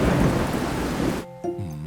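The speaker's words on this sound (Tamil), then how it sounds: "மழையும் கிழையுமா இருக்கு" Heavy rain and rumbling thunder in a Tamil children's cartoon, a loud dense roar that cuts off abruptly, followed by a brief tonal musical sting.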